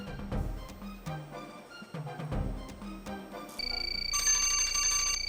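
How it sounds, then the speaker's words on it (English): Bright electronic bell tones ring out near the end of a school quiz show contest, a sustained ringing chime that follows a few quieter knocks and clicks. "Just before the bell, Sonrise?"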